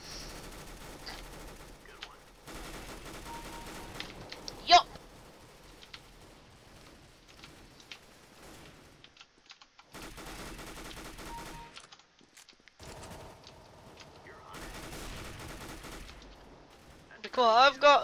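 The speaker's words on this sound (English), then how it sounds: "I've got a flipping tiny machine gun here that is for, like, strictly short-ranged combat" Bursts of fire from a small short-range machine gun in Counter-Strike: Global Offensive, faint and scattered across the stretch with quiet gaps, plus a louder crack near the middle and a busier burst at the end.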